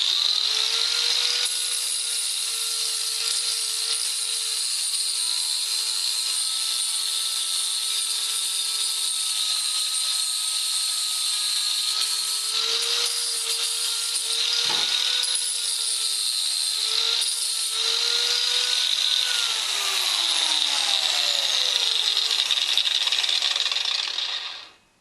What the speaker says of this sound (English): I'm just going to use a 80 grit flapper disc on this little mini grinder and start